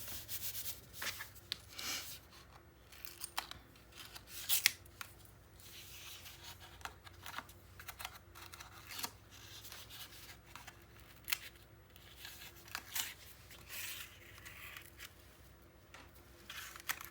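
Scissors trimming a craft paper panel, a long run of soft snipping and rustling paper, close and fairly quiet, with no talking.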